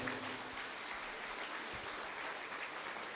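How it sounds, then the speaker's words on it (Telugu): A crowd at a Shivaratri event applauding to thank a speaker, dense continuous clapping that holds evenly from start to finish. "మనం గట్టిగా చప్పట్లతో ధన్యవాదాలు తెలియజేద్దాం"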